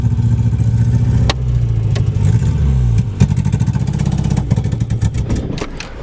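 A Nissan S13 running a 350Z engine idles rough, then revs and pulls away with a loud, close engine roar and rattling clatter, no voices heard.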